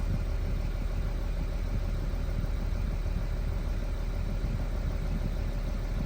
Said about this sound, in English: Seems to be idling.